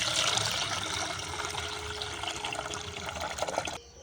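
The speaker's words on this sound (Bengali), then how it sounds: "এই সাদা জলটা ভালো করে পরিষ্কার করে ধুয়ে ফেলে দিতে হবে" Rice washing water being poured away while making chicken biryani, a steady close splashing gush of liquid running for several seconds before stopping abruptly.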